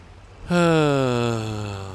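Tractor engine in Farming Simulator 19, starting abruptly and settling into a loud, steady droning hum with a strong harmonic whine that drifts slightly lower, close and alone.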